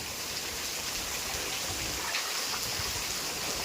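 Rain falls in a steady, even hiss with patter on surfaces, moderately loud and continuous for the whole stretch, with no talking.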